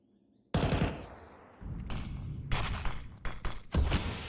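Gunshot taps in a Counter-Strike match on the Ancient map, with a burst of loud, close rifle shots followed by several sharp, separate taps and a final shot, no voices.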